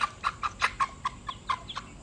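Chickens clucking in a series of short, evenly spaced calls, fairly close and clear against a quiet background with no one speaking.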